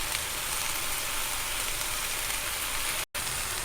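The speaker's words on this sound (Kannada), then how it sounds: "ಇವಾಗ ಇದನ್ನೆಲ್ಲ ನೀಟಾಗಿ ಫ್ರೈ ಆಗೋದಕ್ಕೆ ಇಟ್ಟಿದ್ದೀನಿ ನಾನು." Tomatoes with salt frying in a pan give a steady, even sizzle with a soft rain-like hiss throughout, broken only by a split-second dropout near the end.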